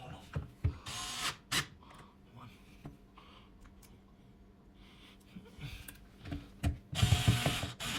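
Bolts are driven in while a smart lock is fitted to a door: short bursts of whirring, ratcheting tool noise close by, separated by quieter handling, with someone talking in between.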